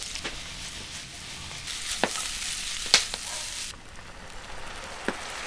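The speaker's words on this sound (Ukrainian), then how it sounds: "розігріваємо олію на пательні та висипаємо цибулю смажити" Steady sizzle of onions frying in oil in a pan, with a few sharp clicks and scrapes of stirring; the hiss briefly drops near the end.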